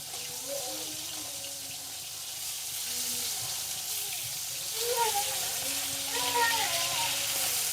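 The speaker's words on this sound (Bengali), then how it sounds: "এবার মাছটাকে প্যানের ভিতরে দিয়ে খুব সুন্দর করে ভেজে নিব।" Fish frying in a pan, a continuous soft sizzle heard under a person talking nearby, with faint kitchen clatter.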